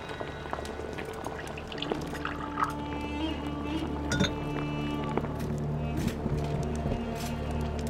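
Hot water pours into a glass vessel with a running liquid trickle, punctuated by several light clinks of glass, fairly close and moderately quiet over a faint background hum.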